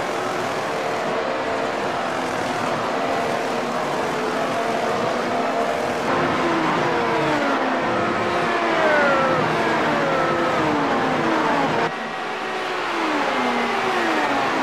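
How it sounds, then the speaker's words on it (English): Race cars lapping the Spa circuit around Blanchimont in the iRacing sim. Several engines drone and rise in pitch as cars pass one after another under a steady, moderately loud mix. "The cars make their way around Blanchimont once again."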